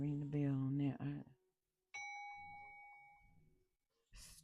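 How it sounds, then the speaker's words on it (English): A single bell is struck once, ringing out clear and sustained before slowly fading, with a voice talking just before it and a brief noise right after. "I'm going to ring the bell on that."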